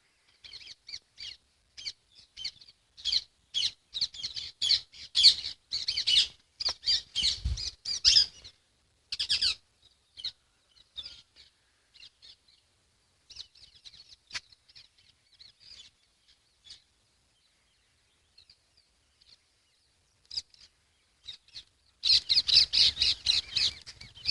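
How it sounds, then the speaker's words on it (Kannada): Early-morning birdsong in a natural setting, with bursts of chirps and calls that come and go, loud dense clusters at the start and near the end and sparser, fainter calls between, with no talk. "ನೋಡಿ ಒಂದು ಹಕ್ಕಿಗಳ ಚಿಲಿಪಿಲಿ"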